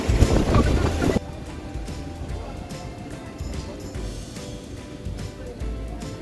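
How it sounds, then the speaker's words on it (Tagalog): Strong gusts buffet the microphone on a breezy seashore at Dingalan Beach, heavy and roaring for the first second, then easing into a steady, lower wind rush with faint surf underneath. "It's so windy."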